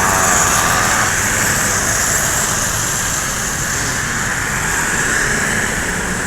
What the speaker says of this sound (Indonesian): Ada medium bus.